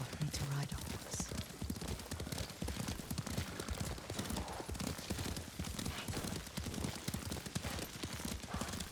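Horse hooves clip-clop steadily at a riding pace in Ghost of Tsushima, a continuous rhythmic clatter with an occasional whinny, mixed under game dialogue and ambient sound.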